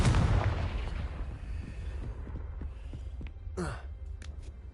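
A Confringo fire spell blasts in a Hogwarts castle video game: a loud booming burst at the start, followed by a rumbling decay with scattered thuds and a brief whooshing sweep near the end.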